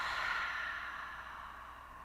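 A single soft, breathy exhale through the mouth comes in a quiet room during a gentle morning yoga session. It fades out over about two seconds.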